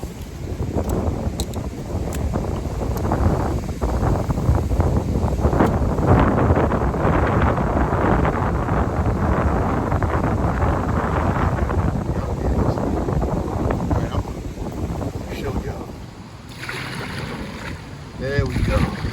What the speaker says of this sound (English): I just want to say how the wind done picked up.